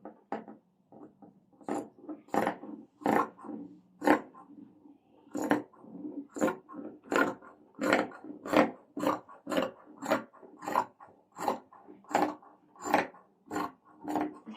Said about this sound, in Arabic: واكمل قص للفستان نفسه